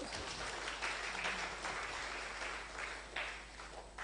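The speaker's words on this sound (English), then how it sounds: "Another round of applause." An audience at an impact celebration event claps in sustained applause, dense and fairly loud, holding steady before tapering slightly toward the end.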